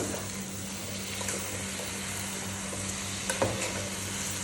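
Gongura chicken being stirred and mashed in a pot, a steady close sizzle with soft scraping of the spoon throughout and a couple of brief knocks near the end, no talking.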